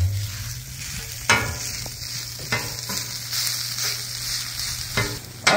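Mild country sausage fries on a flat top griddle with a steady close sizzle, punctuated by several sharp scrapes of a spatula stirring it, over a low hum, with no talking.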